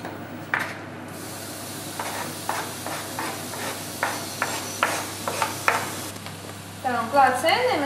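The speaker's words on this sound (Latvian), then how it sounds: "Tagad mēs viņus liksim cepties sviestiņā." Mushrooms frying in butter in a pan give a steady soft sizzle, broken by a regular series of scraping stirs and a louder burst of crackling near the end.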